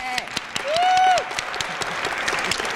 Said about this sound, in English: Please give her a big, big round of applause.